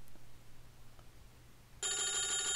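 A telephone rings in a horror video game, a loud electronic trill that bursts in suddenly after near silence and keeps repeating at close range.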